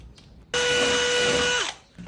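An electric drill bores a hole in a door for a digital lock, a loud continuous high whine that runs about a second and stops abruptly, with no talking.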